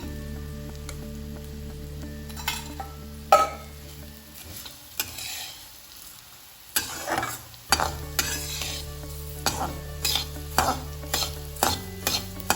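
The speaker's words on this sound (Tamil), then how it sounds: "எண்ணெய் நல்லா காய்ஞ்ச பிறகு 200 கிராம் மல்லி போட்டு அதை கிண்டிட்டு இருந்தேன்." Coriander seeds roast in hot oil while a spoon stirs them, giving a continuous sizzle with rhythmic scrapes and clinks against the pan, a brief quieter stretch midway, and no speech.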